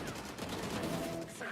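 Rapid bursts of gunfire from a Valorant esports match between pro teams, with shotguns in use, fill the clip densely and loudly throughout with no pause.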